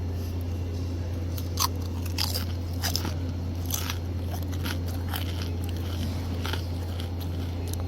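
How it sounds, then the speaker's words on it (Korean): Deep-fried chicken skin snack at a highway rest stop being bitten and chewed up close, a series of sharp crisp crunches over a steady low hum, no talking. "바삭하고 고소합니다. 한번 소리를 느껴보시기 바랍니다."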